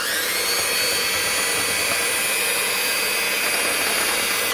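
A mixer whips whipping cream and powdered sugar toward stiff peaks, a steady high-pitched motor whine that stays loud and unbroken with no voices over it.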